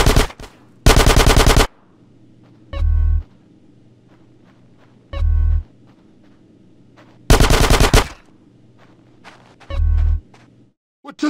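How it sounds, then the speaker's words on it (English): Bursts of automatic gunfire in the GTA San Andreas street mission, two long loud volleys and several shorter ones spaced apart, with scattered single shots and a steady low hum between them. "Give me some fucking covering fire!"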